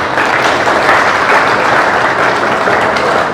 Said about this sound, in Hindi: अपने देश के लिए ताली तो बजा सकते हो।